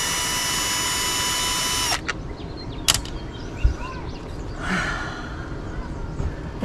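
A power drill whines steadily for about two seconds while backing screws out of a mini shop vac, then stops; a few sharp clicks and faint handling noises follow, close by.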